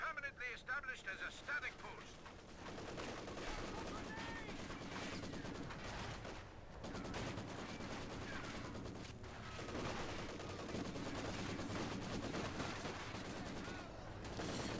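MG34 machine gun fire in Company of Heroes 2, long rattling bursts mixed with other battlefield gunfire and explosions, continuous and fairly loud, with a voice talking over parts of it.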